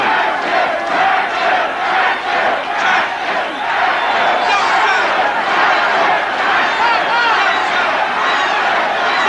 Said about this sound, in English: Chants of the crowd